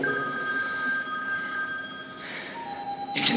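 A telephone bell rings in short repeated trills over a quiet room, fairly close, with a brief clatter at the end.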